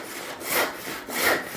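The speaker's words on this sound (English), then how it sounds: "And I'm now sawing flat." A hand rip saw cuts timber with the blade held flat, two even rasping strokes, each swelling and fading, close and clear with no talk.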